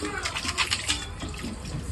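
Running water splashes as raw chicken meat is washed with water and turmeric powder in a home kitchen, a continuous close splashing and trickling with people talking over it.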